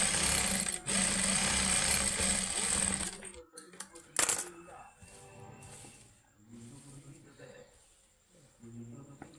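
A sewing machine runs in a steady loud whir while double-stitching lace on a patchwork blouse, then stops. Quieter handling noises follow with someone talking.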